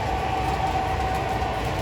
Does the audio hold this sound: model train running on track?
yes